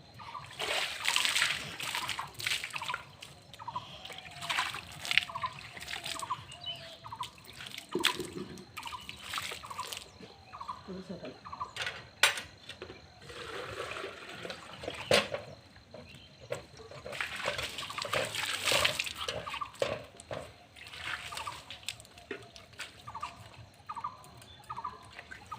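Water is poured and splashed to wash a Shiva temple and its Nandi statue, giving faint intermittent splashes and trickles in an open space, with a few bird calls in the background and no clear talk.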